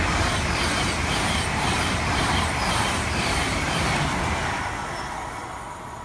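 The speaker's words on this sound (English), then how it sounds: "That was LNER Azuma" An LNER Azuma passenger train passing on the East Coast Main Line at Prestonpans, a loud close rushing roar with rhythmic rolling beats that holds steady, then slowly fades as the train moves away.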